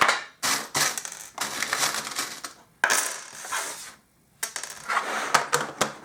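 Small tarot charms tumble out of a box onto a table, a run of loud rattling, clinking bursts with short pauses between, close and alone.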